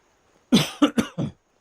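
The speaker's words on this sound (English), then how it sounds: "I gotta start coughing into the microphone" A man coughs into a microphone: four close, sharp coughs in quick succession after a brief silence.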